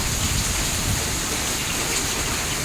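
Heavy hailstorm rain falling outdoors: a dense, loud and unbroken hiss of drops pelts surfaces throughout, with no talk.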